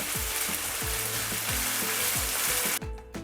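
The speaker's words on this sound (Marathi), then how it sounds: "आलू आणि शेंगदाणे सोबतच आपण शिजवून घेऊ" Chopped potatoes and peanuts frying in a pan give a steady hiss, with a run of regular low scraping strokes of a spatula across the pan; the sizzle cuts out abruptly near the end.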